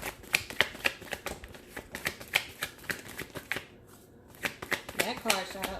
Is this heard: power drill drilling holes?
no